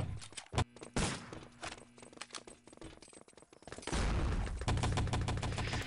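Artillery strikes rain down in a 6on6 Enemy Territory match, a rapid volley of blasts and gunfire cracks that swells into a sustained roaring barrage.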